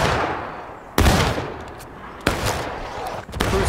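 Rifle volleys fired on command by infantry privates in Civil War style woodland fighting, two sharp, loud cracks spaced about a second apart with a smaller shot later, over crackling background noise.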